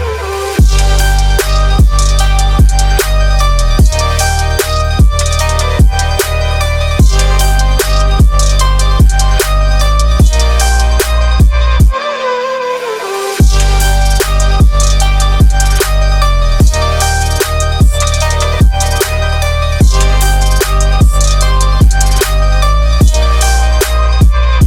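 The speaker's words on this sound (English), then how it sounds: "So we transition into the first drop." The first drop of a melodic trap song hits loud and dense, with pounding bass, sharp percussion and layered synths, briefly cutting out halfway before slamming back in.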